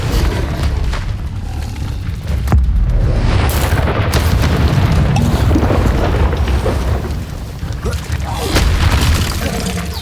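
A fire spell cast in Hogwarts Legacy bursts out as a loud, booming roar with a deep rumbling body and a few sharp cracks, swelling again toward the end of the stretch.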